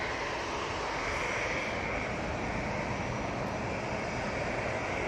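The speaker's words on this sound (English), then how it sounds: "This EasyJet now out to depart to Belfast" An EasyJet airliner departing Manchester Airport for Belfast makes a steady, moderately distant jet roar that holds evenly throughout, with no talking.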